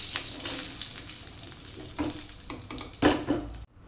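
Cashews frying in ghee in a pan for a jackfruit-seed laddu, a close continuous sizzle with stirring scrapes and a few clinks, ending in a brief cutoff.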